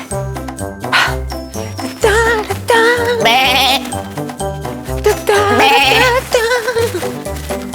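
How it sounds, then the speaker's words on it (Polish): Sheep bleating, loud wavering bleats repeating over a rhythmic musical backing with light tinkling sounds, heard in a children's theatre alphabet piece. "Albo owce."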